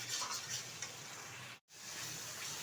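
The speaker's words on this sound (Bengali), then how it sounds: "তো সেই কারণে বলে দিয়ে এবার ভালোভাবে মশলাটা কষিয়ে নিচ্ছি।" Masala for shahi paneer is being sautéed in a pan, giving a steady close sizzle and frying hiss with stirring scrapes that drops out for a moment before resuming.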